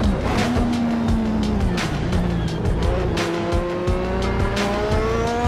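A Lotus 98T race car in Assetto Corsa howls loudly up close, its engine pitch climbing and dropping through gear shifts, with bursts of tire squeal and a brief bit of talk.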